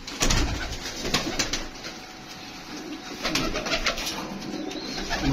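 Pigeons at a bird seller's loft coo repeatedly in low, throaty bursts, with scattered chirps and rustling from other birds nearby, and no talking.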